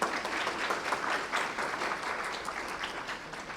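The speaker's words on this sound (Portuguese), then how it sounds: "Uma salva de palmas ao time Ecoporé." Applause from the audience at a pitch day presentation honors a presenting team, a dense, moderately loud burst of clapping that gradually thins and softens over a few seconds.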